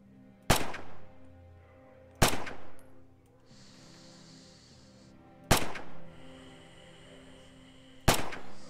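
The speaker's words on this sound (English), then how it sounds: "Free fire at the targets on the range." Four sharp rifle shots at a practice shooting range in the video game Red Orchestra 2, spaced irregularly, each with a short rolling echo and brief mechanical handling noises between shots.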